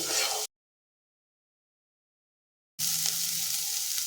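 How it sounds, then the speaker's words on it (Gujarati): A leftover-roti snack mixture stir-fried over a full gas flame gives a close, steady sizzle that cuts out to silence for about two seconds, then resumes. "ગેસની ફ્લેમ ફૂલ કરી અને આ રીતે અહીંયા હલાવતા જઈ અને સાતરી લઈશું"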